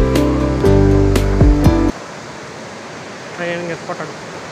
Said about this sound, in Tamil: உங்களுக்கு நல்லாவே கேட்டுக்கும், ஃபால்ஸ் சவுண்ட் கேட்குது